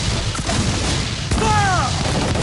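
Pirate-ship cannons fire in Assassin's Creed 4 Black Flag, a loud continuous booming barrage with a brief shouted voice rising over the din.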